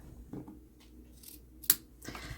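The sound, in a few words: scissors rough cutting journal insert paper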